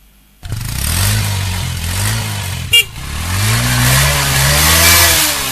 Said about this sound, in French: Vous écoutez le bruit des motos à essence.